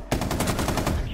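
Light machine gun fire in a shooter video game: a rapid, unbroken burst of loud, close shots rattling at an even rate for about a second, with no talking over it.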